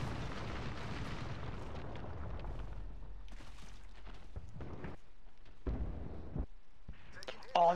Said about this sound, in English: Oh, that was a missile right there.